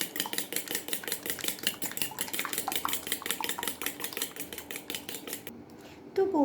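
A spoon briskly mixes egg, ghee and sugar in a bowl, making rapid, steady clinking and scraping that continues for several seconds before stopping abruptly near the end.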